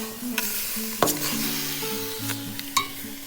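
Rice dry-roasting in a pan while being stirred, giving steady close scraping and rustling with a few sharper clinks, over a faint tonal background hum.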